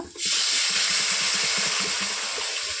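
Water pours into a pan of frying pangas fish curry, setting off a sudden loud, sustained rush of hissing and bubbling that holds steady for a few seconds.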